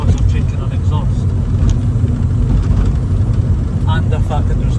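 A 1.9 TDI diesel car with a 3-inch downpipe and no exhaust, driving: a loud, steady, deep engine rumble heard from inside, continuous throughout.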